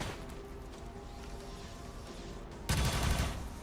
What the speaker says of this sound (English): I'll try and shoot him with the auto gun